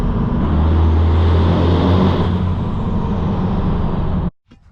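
12-valve diesel truck with mud tires in winter snow, a loud steady engine rumble as it downshifts without the clutch, revs swelling slightly before cutting off abruptly near the end.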